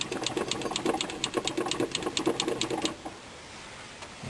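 An electric fuel pump on a 1978 Ford F250 clicks in a fast, steady rhythm for about three seconds, then stops and leaves a quiet hiss.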